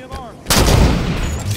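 DMR rifle fire in the Halo 5 video game: a loud, sharp shot that rings out over game sound effects.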